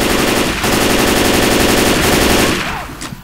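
Rapid automatic gunfire in the video game Left 4 Dead 2 sounds as a loud, dense burst that runs for over two seconds, then cuts off into quieter game noise.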